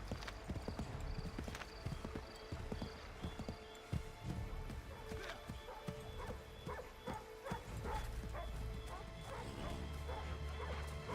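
Hooves clip-clop rapidly in a galloping rhythm in Assassin's Creed 3 Remastered, close and busy, with a dog barking and other game sounds mixed in.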